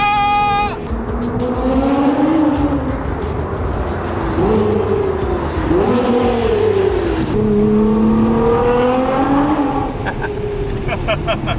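A straight-piped Nissan R35 GT-R engine blares loudly nearby, revving up and down in repeated swells as it downshifts, with pops and a voice partly heard over it.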